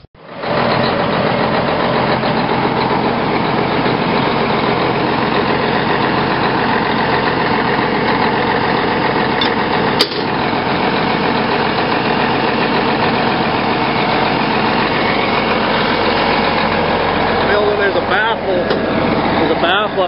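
A large ranch tractor in north central Montana idles loudly and steadily, a dense continuous engine drone with a brief knock partway through, and people talking over it.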